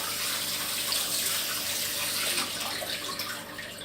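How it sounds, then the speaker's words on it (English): Kitchen faucet running hot water over a handful of frozen mushrooms, a steady close hiss and splash that eases slightly toward the end, with no talk. "Thaw them out under hot water, just quickly."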